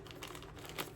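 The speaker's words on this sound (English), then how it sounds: "Sorry for the crinkling." Soft crinkling of plastic yarn packaging handled close by during a knitting session, a quiet run of crackles that peaks near the end, with no talking.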